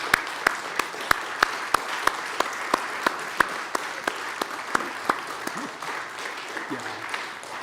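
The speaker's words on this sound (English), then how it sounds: "You deserve lots of appreciation and at very least a huge round of applause." Congregation applauding at a church congregational meeting: rapid crowd clapping with a few sharp, loud claps standing out near the microphone, rising and then slowly thinning out over several seconds.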